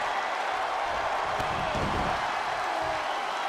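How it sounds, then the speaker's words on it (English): Steady roar of a cheering crowd filling a wrestling video game arena, a dense, continuous wash of noise at even loudness with faint thuds underneath, no voices standing out. "The sound of this crowd is deafening"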